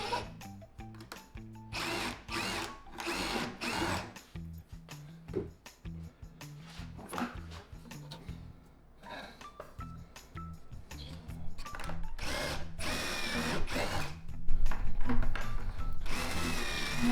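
A power drill drives screws into a mounting board for an inverter and battery setup, in repeated loud bursts of whirring separated by short pauses, close up, with no talking.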